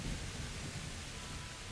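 Rain from a thunderstorm in Kingdom Come: Deliverance, a steady broadband hiss with a soft low rumble underneath, even and unbroken throughout.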